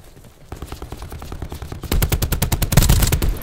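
Rapid automatic gunfire in Black Ops 4's Blackout battle royale mode, loud bursts of rhythmic shots that grow denser and heavier toward the end, with no talking over them.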